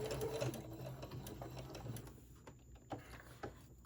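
Sewing machine stitching a decorative fabric face mask, a steady close mechanical whir with rapid needle ticking that slows and stops partway, followed by a few soft handling clicks.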